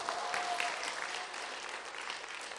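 A church congregation gathered for a Sunday evening evangelism testimony service claps in a thick, continuous wash of applause, loud and sustained with no pause and no voices over it.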